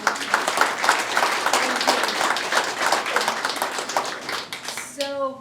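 Audience applause for the performers of an original song at a market grand opening ceremony, dense steady clapping filling the room, ending with a voice speaking briefly at the close.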